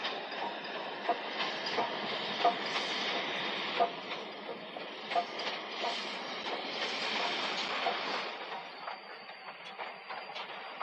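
A train runs on a heritage railway with a steady rumble, rhythmic clicks of wheels over rail joints and some hiss, heard at moderate distance with no voices.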